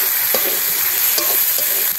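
Egg chowmein mixture with tomato sauce stirred in a hot pan, a steady close sizzle broken by a few sharp spatula scrapes and clinks, with no voices.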